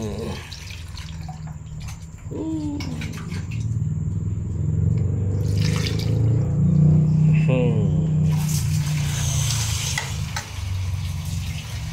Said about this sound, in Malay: Yang ni kita nak goreng.